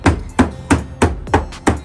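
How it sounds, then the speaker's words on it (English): Hammer blows on the damaged body panel of a Subaru BRZ after a collision, six loud metallic strikes at an even, brisk rhythm, close by with no talk. "But just hammer like a good amount."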